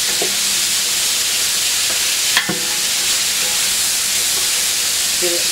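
Vegetables sizzling and frying in a pan, cooked until soft; a steady broadband hiss runs throughout, with a brief louder scrape or stir midway and occasional faint clinks.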